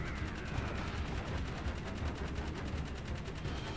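Rapid automatic gunfire from the video game Jak 3 rattles in a fast, even stream of shots, loud and continuous with a dense crackling burst texture, without talking.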